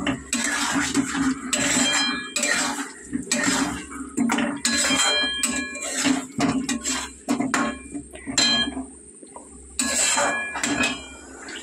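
Potatoes go into a cooking pot for a fish kalia, with repeated clanks and scrapes of metal pot and spoon against a low background hiss, in irregular bursts close by.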